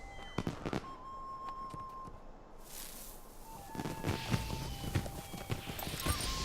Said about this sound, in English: Some fireworks going on.